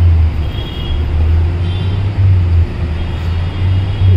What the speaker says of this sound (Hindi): ये कोई पार्किंग नहीं है, पूरा ट्रैफिक है.